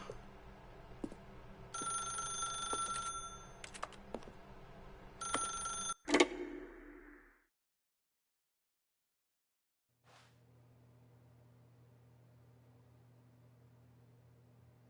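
A telephone rings in the video game The Stanley Parable, repeated electronic rings over a hiss, ending in an abrupt click, then a stretch of silence and a quiet hum.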